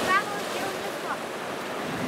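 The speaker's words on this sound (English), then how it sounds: "open ocean." Open ocean surf breaking against coastal rocks at a tide pool area, a steady wash of waves with wind buffeting the microphone and a faint bird call near the start.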